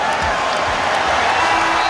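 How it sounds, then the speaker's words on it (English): A packed basketball arena crowd roars with sustained cheering and whoops after Kobe Bryant's game-winning alley-oop to Shaquille O'Neal in a Lakers game, a loud, dense wall of noise with no single voice standing out. "The crowd erupted"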